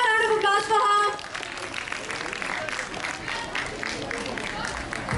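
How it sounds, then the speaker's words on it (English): An audience at a school literary festival claps in a short burst of applause, with a voice heard over the start before the clapping settles into a steady patter. "Can we have a round of applause for her?"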